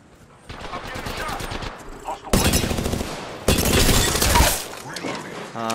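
Gunfire in a video game shootout: two long, loud automatic bursts break out after a quieter stretch, with scattered shots around them and players talking between the volleys.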